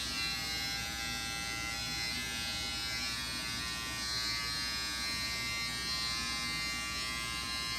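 An electric trimmer buzzes steadily and close up while it cuts through a big white beard, its high-pitched motor whine constant with no pauses.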